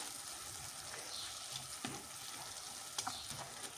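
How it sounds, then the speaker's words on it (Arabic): Onion frying in a pan, a soft steady sizzle with a few faint clinks and stirring scrapes, heard close and quiet with no talking. "وغادي نقلي حتى نطيب هاد البصيله مزيان نشحرها"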